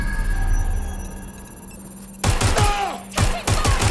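Gunfire in the video game Watch Dogs: Legion: after a quiet stretch, two loud bursts of rapid shots crack out close by, separated by a brief pause, with ringing echoes trailing off.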